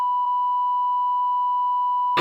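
A steady high-pitched censor bleep tone holds for about two seconds, then a brief burst of noise cuts in at the end.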